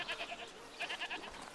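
Goats bleat in the video game A Plague Tale: Requiem, several short, nasal cries in quick succession at moderate distance, with no talk over them.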